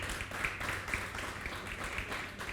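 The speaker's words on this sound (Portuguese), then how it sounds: "se você puder me ajudar a recebê-lo aqui com uma salva de palmas" A live audience gives sustained applause as a guest named Arthur is welcomed onto the stage, a dense, even patter of many hands clapping at moderate loudness from across the room.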